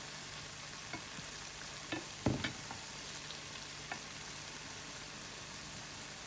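Thaen mittai sweets frying in oil make a quiet, steady bubbling sizzle with a few soft stirring clinks and one brief louder clatter partway through.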